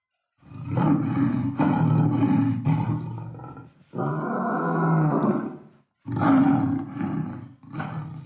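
A lion roar played through an Alexa smart speaker, several loud, rough roaring bursts in close succession with short gaps, heard alone and close.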